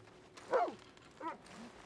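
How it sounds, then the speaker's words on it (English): A dog in the video game Red Dead Redemption 2 Online gives two short yips or barks about a second apart, quiet and close over a low background hum. "Oh yeah, this is the dog I bought."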